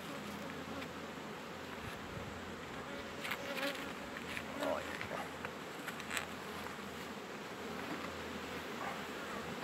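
Honeybees hum steadily at an open beehive during a cool-weather swarm-prevention inspection while rapeseed is in full bloom, a dense close buzz with brief louder passes of individual bees near the microphone, no talking.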